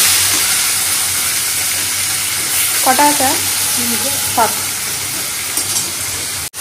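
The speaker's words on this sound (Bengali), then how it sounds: "এখানে মাছটা ভাজা হচ্ছে" Fish fries in hot oil with a loud, steady sizzle and hiss throughout, close up; someone speaks briefly midway over the frying.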